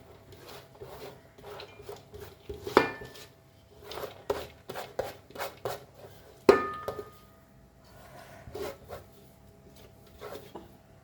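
Cooked rice is spooned into a pot of Goan beef biryani, making a series of soft scraping and thudding scoops with a couple of sharper knocks of a utensil against the pot, spaced irregularly with quiet gaps.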